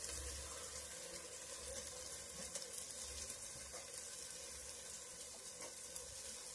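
Vegetable pulao sizzles in a hot pot as fresh mint and coriander leaves go in, a faint, steady frying hiss with soft crackles and no talking.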